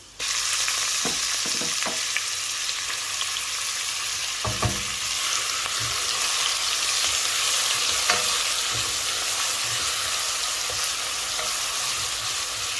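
Onions and browned garlic frying in oil in a pan for a puti fish and cherry tomato curry, a steady loud sizzle running throughout with a few scraping stirs, no talking.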